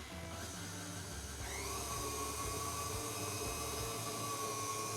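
An electric mixer beats white chocolate icing in a bowl, a steady close motor whir with a faint rhythmic beater pulse, running continuously without talking.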